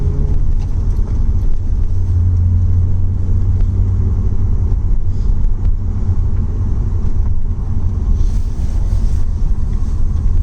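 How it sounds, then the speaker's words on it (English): Lexus SC300 engine running and revving up around 2,000 rpm, a steady loud low rumble with wind buffeting the microphone, no talking over it. "Probably want to like rev it at like 2K before you want to really try."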